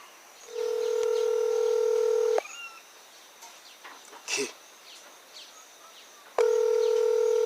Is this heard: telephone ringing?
yes